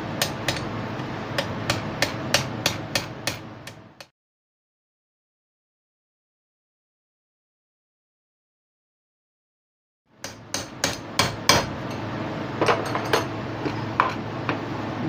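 A hammer strikes a part while an Usha sewing machine is serviced, in quick rhythmic metallic taps; a run of blows stops for several seconds of silence, then the hammering resumes, fairly close.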